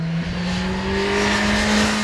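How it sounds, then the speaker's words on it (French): A Kawasaki Z1000 SX motorcycle engine revs loud and close, a steady strong drone whose pitch climbs slightly over about two seconds, with no talk. "c'est un moteur Kawasaki, ce qui sous-entend un moteur rempli de caractère"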